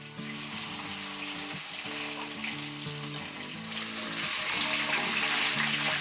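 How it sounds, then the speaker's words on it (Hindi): Loud, steady sizzling of rohu fish frying in hot oil, crackling and hissing continuously, with faint music playing underneath. "जब तक हमारी फिश फ्राई हो रही है"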